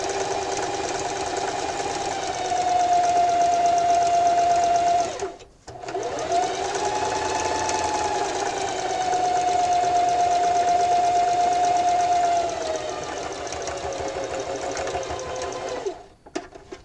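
A sewing machine runs steady straight stitches on the casing of a drawstring backpack, a close, continuous whirring hum with a clear motor whine. It pauses briefly about five seconds in, then resumes and runs on, with a short stop near the end.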